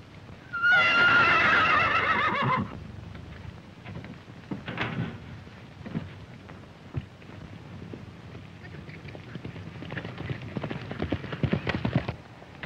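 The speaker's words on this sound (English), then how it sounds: "to catch myself a horse." A horse lets out a loud, shrill whinny in a 1935 Western film, followed by quieter scattered shuffling and thumping that could be hooves.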